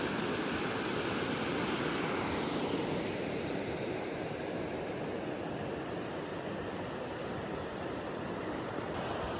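A river rushes steadily beside a campsite in New Zealand's Kaimanawa backcountry, a close, constant broadband wash of flowing water with no voices and no breaks.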